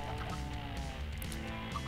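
Chicken clucking in the Minecraft game, a brief fowl call over a dense continuous background of game music and ambient noise, no talking.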